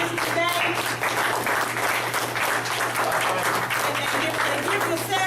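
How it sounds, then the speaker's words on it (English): An audience applauds Judge Paul Nally at a public talk on grand jury power: steady, full clapping from a room of people, continuous and fairly loud for several seconds. "Let's give Judge Nally a round of applause for attending this today."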